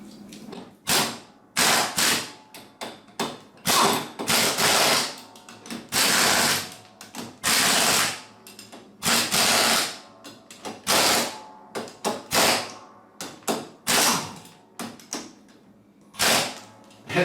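Wheel spacer nuts being tightened on a Husqvarna TS354D lawn tractor fitted with 2-inch spacers: a long run of loud, close ratcheting bursts, each a few seconds of rapid clicking separated by short pauses, with no talk.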